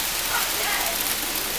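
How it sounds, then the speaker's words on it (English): Hail falling outdoors, a steady, fairly quiet hiss of many small stones striking surfaces, continuous and even throughout the short stretch. "And here we have hail."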